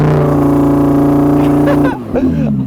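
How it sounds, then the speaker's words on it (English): An Audi R8 V10 rear-wheel-drive engine is held at a high, steady rev on launch control, loud and close, before the revs drop away sharply. "If you engage launch control, then you can sort of rev it."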